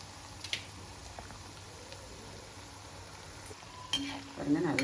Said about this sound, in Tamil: பாருங்க, நல்லா பொரிஞ்சு வரட்டும், நல்ல ப்ரௌன் ஷேடு வரணும்